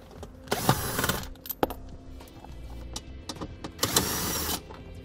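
Two bursts of ratcheting and clicking, close and fairly loud, with a few sharp taps between, as two 7 mm fasteners are removed from a 2017 Chevrolet dash panel.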